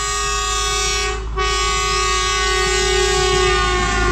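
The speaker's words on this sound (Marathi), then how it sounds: "रात्री 1 वाजता रेल्वे क्रॉसिंगला रेल्वे आली." A lone locomotive rolls through a railway crossing at night, sounding a loud, sustained horn blast that breaks briefly and then resumes, close by.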